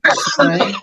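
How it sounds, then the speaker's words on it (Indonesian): A short, harsh cough bursts out close to the microphone during a webinar, a couple of rough pulses in under a second. "Siapa itu yang batuk?"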